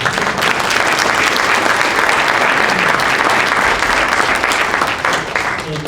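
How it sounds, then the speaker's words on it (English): Audience applause following a nuclear technology capstone presentation at a community college, loud and steady throughout, dense clapping that tapers slightly at the end. "give these guys a round of applause"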